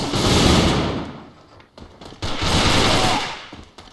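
Gunfire in a competitive video game match, two long bursts of rapid automatic fire, loud and close, with a short lull of scattered shots between them.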